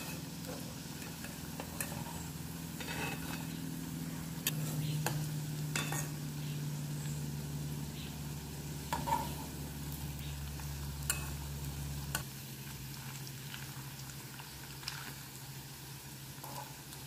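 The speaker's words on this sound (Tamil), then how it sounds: "இந்த பக்கம் நல்லா ஃப்ரை ஆகட்டும்." Bread vada deep frying in hot oil in a home kitchen, a steady, moderate sizzle with occasional pops and crackles running throughout, no voices present.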